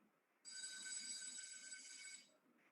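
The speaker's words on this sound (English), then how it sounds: "and then a bell ringing, a school bell ringing." An electric school bell rings continuously for about two seconds, a bright metallic trill that starts abruptly and stops, with faint background noise around it.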